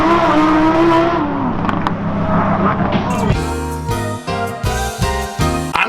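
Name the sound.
car launching and accelerating hard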